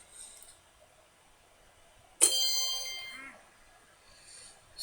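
A mobile phone notification chime rings out once, bright and fairly loud, then fades over a quiet background during a card game session.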